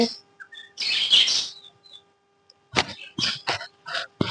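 Sparrows chirp in short bright bursts, a cluster early on and then a quick run of sharp tweets close by.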